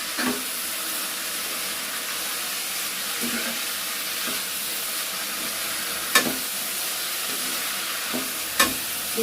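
Potatoes and fenugreek leaves frying with masala in a kadhai, a constant hiss of sizzling oil broken by a few sharp clinks and scrapes as the spoon stirs against the metal pan, close up.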